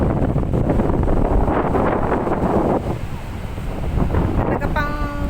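Wind buffets the microphone at a beach resort, a loud continuous rumbling roar with a brief voice near the end.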